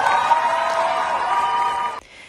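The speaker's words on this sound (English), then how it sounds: "The celebrity mom also uploaded a video clip of herself cheering for Shaqir at the commencement ceremony" Cheering from a crowd at a graduation commencement ceremony, a sustained bright roar of voices lasting about two seconds before cutting off abruptly to quieter ambience.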